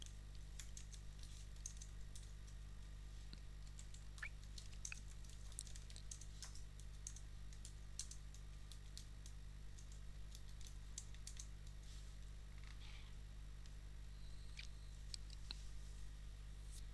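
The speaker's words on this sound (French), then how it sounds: "Moi, je tape à une main en plus." Someone types on a computer keyboard with one hand, producing quiet, irregular clicks and taps throughout over a low steady hum, with no voice.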